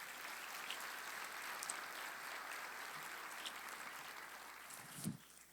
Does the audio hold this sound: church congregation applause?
yes